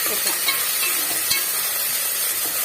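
Ginger garlic paste with coriander and mint is stirred and fried in a pan for tomato rice, giving a steady close sizzle with small scraping stir sounds throughout.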